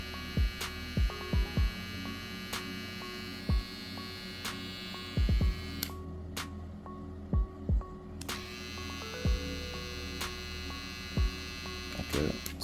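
An iClipper Pro brushless hair trimmer motor runs steadily with a constant electric hum. Sharp clicks and taps come through at intervals, and the whir briefly cuts out and resumes midway.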